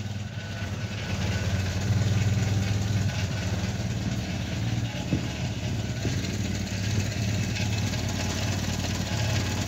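A small Renault Cléon engine in a Renault 11 GTL idles steadily at close range, a low rumbling drone with a slightly uneven knocking pulse, no voices.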